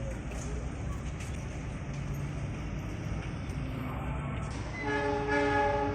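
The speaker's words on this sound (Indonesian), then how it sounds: "Pas banget nih di jalur 3 melintas langsung kereta api jarak jauh Argo Cirebon" Argo Cirebon long-distance express passing through Manggarai station on track 3: a steady rumble of rolling wheels under station ambience, then a horn-like tone rising near the end.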